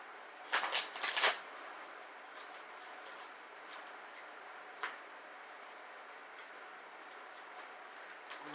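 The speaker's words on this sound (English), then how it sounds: "One more shuffle." Tarot cards are shuffled in two quick, crisp riffling bursts up close, followed by quieter faint card taps and ticks over a hushed room.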